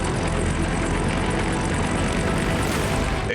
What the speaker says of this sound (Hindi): लेह लद्दाख के आसमान में लगातार वायुसेना के फाइटर जेट उड़ान भर रहे हैं